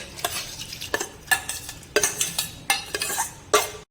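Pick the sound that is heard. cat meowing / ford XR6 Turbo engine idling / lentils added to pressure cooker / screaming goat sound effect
lentils added to pressure cooker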